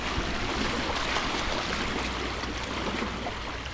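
Continuous wash of water with small waves lapping and splashing on the shore from a passing boat's wake, a steady rushing sound with no voices.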